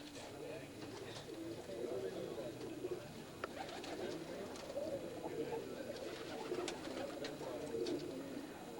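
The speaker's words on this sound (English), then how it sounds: "Give you an idea of the different birds that Jon has" Pigeons or doves cooing repeatedly nearby, soft throaty calls overlapping against a steady background hum.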